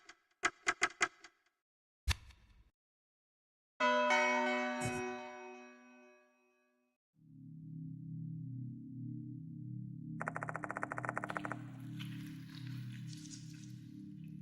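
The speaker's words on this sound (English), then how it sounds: "When I return to the clock tower, the bell stops ringing." In a horror video game, a clock tower bell strikes once as a resonant tone that rings out and slowly decays. Sharp clicks come before it, and a low ambient drone with scattered higher noises follows.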